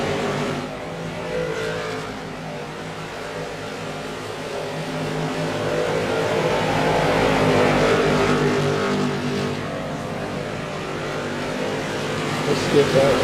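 Late model race cars drone around a track in a 100-lap racing game, from a limited late model touring series. The engine noise is a continuous, layered roar that swells and eases as the pack runs.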